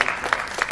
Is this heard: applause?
yes